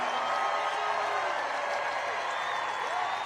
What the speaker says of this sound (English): every time I introduce him, he gets the biggest applause